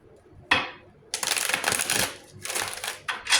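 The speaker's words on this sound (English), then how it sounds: "allow me to shuffle" Tarot cards being shuffled by hand, heard up close and alone as bursts of dense papery riffling and flicking, with one short burst followed by longer continuous shuffling runs.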